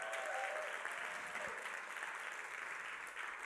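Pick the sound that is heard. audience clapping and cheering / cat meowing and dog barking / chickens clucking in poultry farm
audience clapping and cheering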